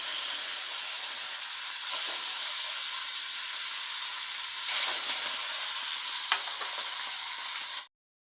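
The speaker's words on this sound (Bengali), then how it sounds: "তেল গরম হয়ে গেছে এবার আমি মাছগুলো দিয়ে দিচ্ছি" Tilapia fish sizzling in hot oil in a home kitchen pan, a steady loud frying hiss throughout with brief bursts as pieces settle, ending abruptly; no talking.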